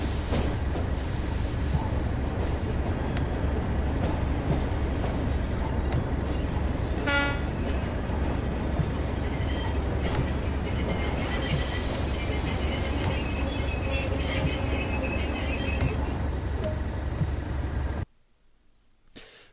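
A simulated train in Train Sim World rolls steadily with continuous wheel and rail rumble, a sustained high squeal running through most of the run, a brief horn-like burst near the middle, before the sound cuts off abruptly near the end.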